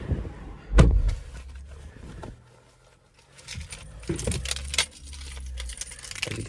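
The two keys for a 2025 BYD Shark jangle close by, with one sharp clinking burst at the start and more rattling and clinking bursts later.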